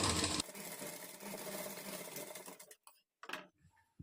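A sewing machine runs steadily stitching a princess cut blouse, then stops and gives a few short bursts before going quiet.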